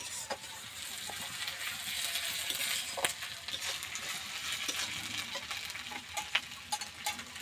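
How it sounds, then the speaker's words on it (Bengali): Spice masala with ginger paste is sautéed in a pan for a mutton dish: a soft, continuous sizzle with scattered spatula scrapes and clicks, no talking. "আদা বাটা ভালোভাবে মশলাটা কষিয়ে নেবো"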